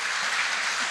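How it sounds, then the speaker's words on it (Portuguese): A church congregation at a worship service claps together in praise of Jesus, a brief burst of steady, moderately loud applause heard alone. "Você pode aplaudir a Jesus nessa noite?"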